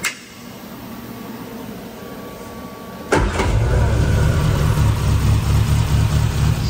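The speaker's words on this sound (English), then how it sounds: "Now let's start it up and make sure all the readings are correct." A car engine on a dyno cranks and fires about halfway through, then settles into a loud, steady idle rumble after a quieter stretch of shop background.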